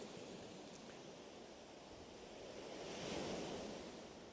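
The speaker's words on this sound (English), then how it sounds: "just to come down and just listen to the waves" Sea waves wash steadily onto the shore while out fishing in the evening, a continuous soft roar of surf with a gentle swell that builds slightly louder toward the end, faint wind, no voices.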